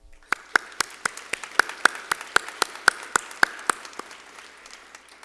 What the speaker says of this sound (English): If I can get a round of applause for them.